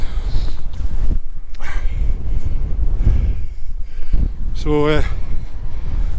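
Strong, steady wind gusts roar and buffet the microphone on a cold, exposed hillside during a winter hike in Weardale, with one person speaking briefly over the rumble.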